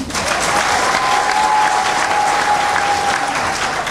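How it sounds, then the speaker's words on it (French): A large crowd at a PADES party event in Guinea applauds the Prime Minister, a loud, continuous wash of clapping held steady throughout, with a faint tonal whine running beneath. "nous recevons à la fois le Premier ministre que je vous demande d'applaudir"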